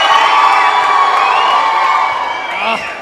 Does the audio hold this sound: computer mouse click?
no